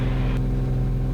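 Piper PA28 light aircraft engine droning steadily during climb-out with the gear retracting, a continuous loud cabin hum with strong low harmonics throughout.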